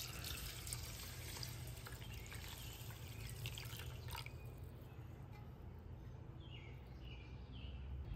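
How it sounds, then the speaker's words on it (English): Water running and trickling from a tap onto two cups of rinsed rice in a pot before cooking, a steady close splash with faint dripping and no talk. "I'm gonna add a little water."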